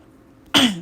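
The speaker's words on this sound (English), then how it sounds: "I should probably clear my throat a lot more." A single throat clearing close to the mic after near-silence, a short harsh burst that fades out.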